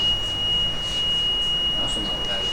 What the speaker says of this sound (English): the alarm is triggered as shown on the head's indicator lights, as well as the oil mist detector screen and lights